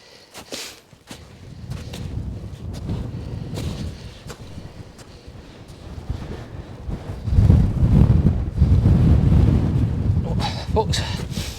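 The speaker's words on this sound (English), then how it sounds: "It's getting quite gusty." Gusty wind buffets the microphone on a mountain in extreme winter conditions, roaring in uneven surges that swell loudest toward the end, with crunching footsteps and a brief voice underneath.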